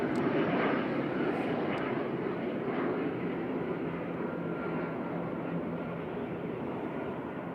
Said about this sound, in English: EasyJet CZPD coming in there from Amsterdam with flight 2168